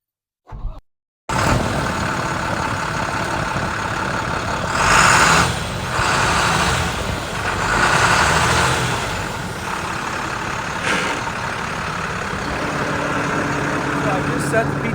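A 2009 International 4300 truck with a Maintainer 3220 crane body runs steadily with its PTO engaged, a continuous near engine drone holding for most of the stretch after a brief sound at the start.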